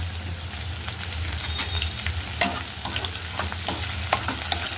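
Onions crackle and sizzle in hot oil in a pan with cloves, cinnamon and cardamom, a steady close frying hiss with scattered pops and stirring scrapes, no voices.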